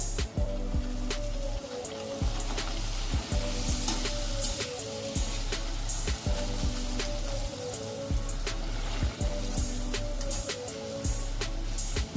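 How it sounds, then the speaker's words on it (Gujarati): Puri frying in hot oil in a kadai makes a continuous bubbling sizzle, broken by frequent sharp clicks and taps repeating at an uneven rhythm, with a low steady hum underneath and no talking. "હવે આ રીતે પૂરીને તળી લેશું."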